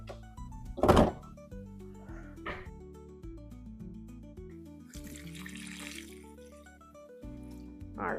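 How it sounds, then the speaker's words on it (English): Tap water runs into a container of strawberries for homemade jam, with a short splashing burst and a longer gush later, under soft background music. "I don't have enough water in here, so I'm just gonna add a little more."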